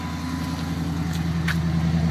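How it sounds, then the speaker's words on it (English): Exhaust note from a 2010 Chrysler 300S running at raised idle, a steady deep rumble recorded close to the tailpipe, loud and unbroken, with no talking. "I'll get an exhaust clip."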